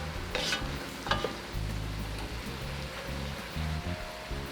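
Beef and broccoli stir-fry in a single pan, sizzling and crackling steadily, with a few sharp scraping stirs near the start and nobody talking.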